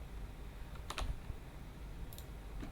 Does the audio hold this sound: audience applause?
no